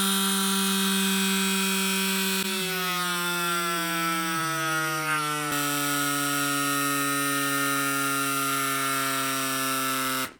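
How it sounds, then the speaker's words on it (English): A CYCPLUS AS2 Ultra electric pump, low on battery, inflates a 700x42 gravel bike tire with a loud, steady motor drone. Its pitch drops in a few distinct steps as the pressure builds, and no voices are heard. "far the CYCPLUS AS2 Ultra will inflate this 700 by 42 tire"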